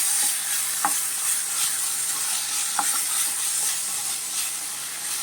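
Masala paste frying with prawns in a pan gives a steady, close sizzling hiss, with a few soft clicks of stirring scattered through it.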